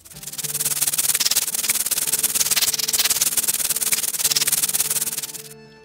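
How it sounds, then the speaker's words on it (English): A rattlesnake rattle during toy play gives a steady, dry, hissing buzz that runs continuously for about five seconds, then cuts off abruptly. Close and fairly loud, with no one speaking over it. "Sounds like a rattler."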